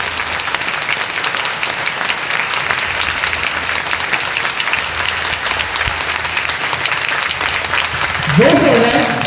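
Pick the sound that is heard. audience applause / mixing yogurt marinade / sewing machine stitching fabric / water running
audience applause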